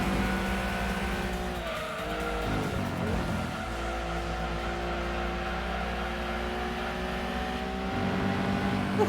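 A Toyota Supra race car in Gran Turismo 2 roars with a steady, loud engine drone, joined by tire squeals and skidding as it corners. It is heard throughout with no talking.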